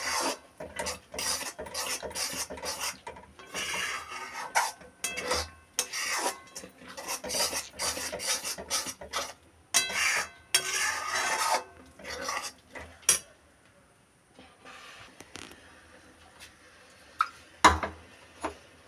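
Spatula scraping and stirring a mango lachha laddu mixture in a pan, with repeated close rasping strokes in bursts, then a quieter stretch before a few final scrapes.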